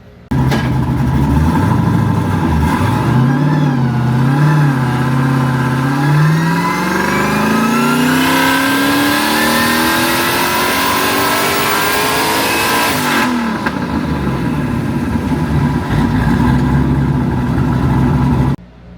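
Turbocharged V8 swapped into a Nissan 370Z roars loud and close on a dyno, climbing through a long sustained rev sweep with rising pitch, then cutting off sharply and settling into a steady idle.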